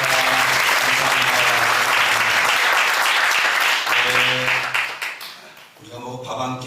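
Church congregation applauding a senior pastor at a prayer meeting testimony session, loud sustained clapping from a large crowd that swells and then tapers off, with a voice speaking over part of it.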